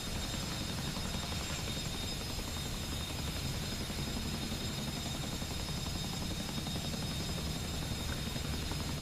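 A helicopter with full door gunners aboard drones steadily in a flight simulator game, a dense, continuous rotor and turbine roar with no voices.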